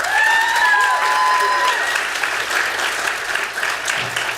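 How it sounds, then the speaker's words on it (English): An audience at a student recognition ceremony gives a round of applause for student speakers, dense sustained clapping from a large crowd, with a voice speaking over it at the start. "Let's go ahead and give another round of applause to our amazing student speakers."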